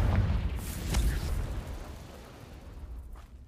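Confringo spell blast from a Hogwarts video game, a booming explosion near the start with a second burst around one second, then a fading rumble, with a voice calling out over it.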